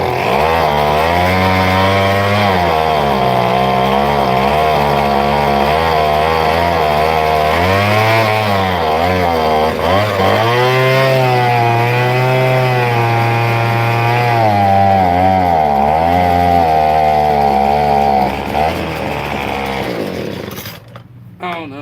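A small gasoline blower engine runs steadily at high speed after starting, a loud buzzing drone with slight pitch wavers, close to the microphone before it cuts out near the end.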